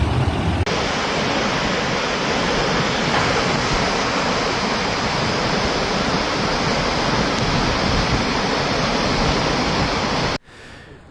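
Floodwater rushing through downtown streets in Hurricane, Utah, a loud steady roar of churning water that holds unbroken for about ten seconds before cutting abruptly to a quieter background.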